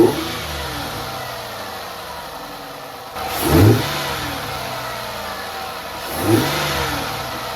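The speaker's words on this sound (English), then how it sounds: "The engine is also a little bit louder, as in, you know, I can just hear it a little bit more from the inside" Ford Escape with a K&N air filter, engine heard from inside the cabin: steady mid-pitched drone with two distinct revving surges as it accelerates, loud and close, no talk.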